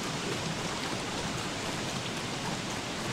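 Steady rain falling in the Don't Starve video game, a dense, even hiss of drops that holds at a constant level throughout with no talk over it.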